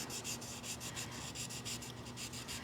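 Polishing papers rub back and forth over a metal clay jewelry piece, making quick, rhythmic scratchy strokes up close, repeated evenly with no voices.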